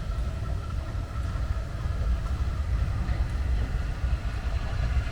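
A train rumbles steadily as it approaches the platform at Sheffield Park station on the Bluebell Railway, a continuous low, broad rolling noise with faint metallic squeaks, fairly close and without talk.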